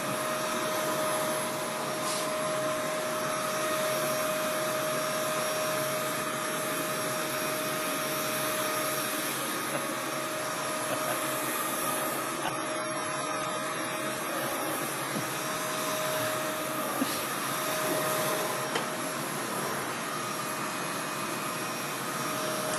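An upright vacuum cleaner roars continuously at close range with a steady high-pitched whine, its tone shifting slightly as it works, with no talk over it.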